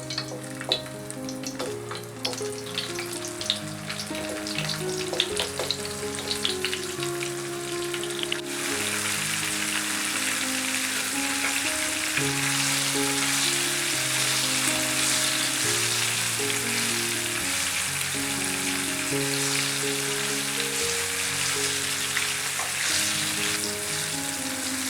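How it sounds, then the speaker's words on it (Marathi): Baby corn dropped into hot oil for chilli baby corn, first a mild crackle then a loud, dense, steady sizzle like heavy rain that carries on for most of the stretch, with background music and no speech. "आता त्यामध्ये मी हे कॉर्न फ्राय करून घेते।"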